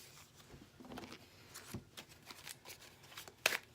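Cards being shuffled in a few quick riffling bursts, close and fairly quiet, ending with a sharper snap of cards.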